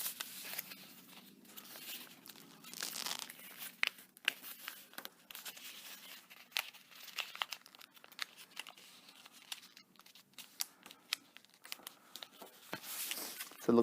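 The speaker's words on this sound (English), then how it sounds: "Okay, so I fold those two sides in." Origami paper is folded by hand, crinkling and rustling softly up close with scattered sharp creasing crackles throughout.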